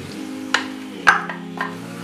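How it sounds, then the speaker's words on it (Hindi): Onions dropped into a hot pan of oil after frying mutton for karahi, giving a steady close sizzle with a few sharp clinks and stirring scrapes over about two seconds. "अब हम इसमें ये प्याज डालेंगे।"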